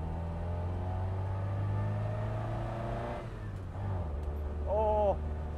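A classic rear-wheel-drive Ford Mustang engine drones steadily and close, its rumble building as it accelerates, with rising harmonic tones toward the end and a brief higher whine near the finish.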